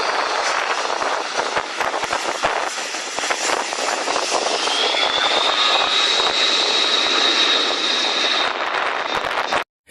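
A C-130 Hercules lands on sand near a lake with its engines roaring loudly and continuously, and a rising whine emerges partway through before the sound cuts off abruptly.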